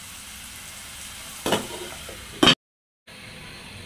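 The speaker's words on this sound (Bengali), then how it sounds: "আমি এগুলোকে আর একটু কষাই, ঢাকনাটা একটু দিয়ে দিব" Small kachki fish curry sautéing in a pan, a steady soft sizzle with a couple of brief louder stir or lid clatters, then a short silence before the frying resumes.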